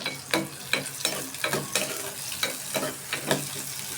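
Chopped onions frying in oil in a pan, stirred with regular spatula strokes that scrape roughly every half second over a steady sizzle. The sound is close and even, with no speech.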